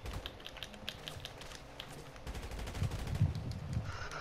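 Keyboard typing while texting in Grand Theft Auto V, a steady run of light rapid key taps over a low rumbling game background, with heavier thumps building near the end.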